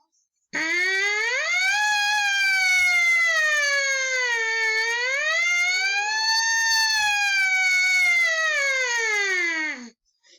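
A single brass tone glides slowly up and down like a siren, loud and sustained for about nine seconds before stopping.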